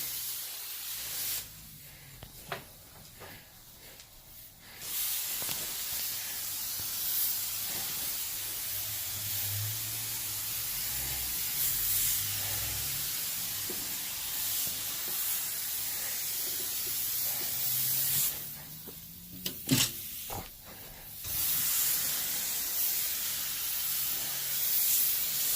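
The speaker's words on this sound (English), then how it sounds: "now we commence to the cleaning process where we're pre-spraying" A cleaning sprayer pre-sprays a carpet with a long, steady hiss that runs for most of the time, broken by brief pauses and handling knocks, close and fairly loud with no talking.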